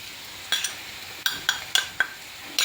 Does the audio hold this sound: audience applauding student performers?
no